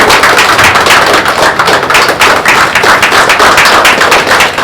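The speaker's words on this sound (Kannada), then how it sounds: "ಜೋರ ಚಪ್ಪಾಳೆ ಬರಲಿ" Dense, sustained applause from a crowd at a hospital's tenth-anniversary inauguration event, steady and loud throughout with no pauses.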